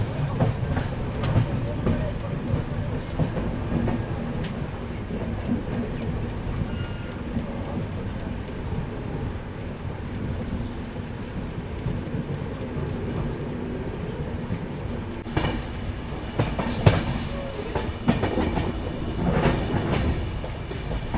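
The Kanchankanya Express rolls along the rails after pulling out of Bagdogra station on a rain-washed day, a continuous low rumble of wheels and carriages with faint clatters, steady throughout.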